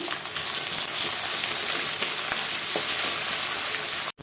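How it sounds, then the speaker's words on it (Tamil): Dried red chillies and onions fry in hot oil as part of a chicken fry dish, giving a dense, steady sizzling hiss with a few faint stirring scrapes, close and continuous until it cuts off at the end. "வெங்காயம் போட்டதுக்கப்புறம் போடுறேன் ஒரு எட்டு வரமிளகா விதையெல்லாம் எடுத்துகிட்டு வச்சுருக்கேன் இது ரெண்டும் சேர்ந்து வதங்கட்டும்"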